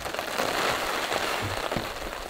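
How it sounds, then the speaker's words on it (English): Dense, steady hiss of heavy rain pelting down in a winter storm with strong wind gusts, loud and unbroken, with a rough crackling texture throughout. "Massive wind gusts, just the driving rain"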